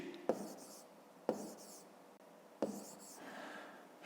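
Pen or pencil writing out long division on paper, three separate bursts of close, faint scratching strokes with quiet pauses between them.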